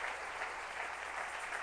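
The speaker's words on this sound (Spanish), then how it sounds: "dele un aplauso al Rey de todos los que les han borrado sus pecados con la sangre de Cristo" A church congregation applauds during a sermon, a steady wash of handclaps held at a moderate, somewhat distant level for the whole short stretch with no talk over it.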